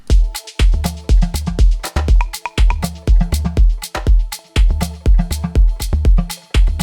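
Humanized organic house drum loop made in Ableton, with automated hi-hat, clave percussion and frequent drum fills: a loud, punchy groove whose hits vary in density and accent from bar to bar, with no voices.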